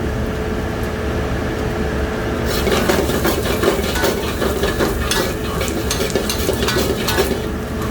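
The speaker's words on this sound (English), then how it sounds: "We're gonna saute for 5 to 7 minutes." Ridge gourd (turai) sautés in a pan over a high flame, giving a steady sizzle that grows busier partway through, with occasional stirring scrapes and utensil clinks close by.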